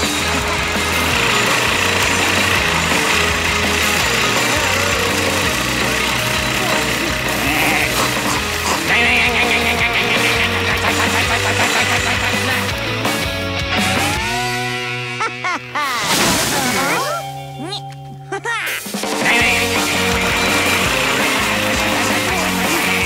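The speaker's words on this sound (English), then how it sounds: "All this mowing is disturbing my study." A cartoon lawn mower drones on continuously with a rattling, buzzy motor, loud and up close, cutting out for a couple of seconds before roaring back in alongside music-like tones.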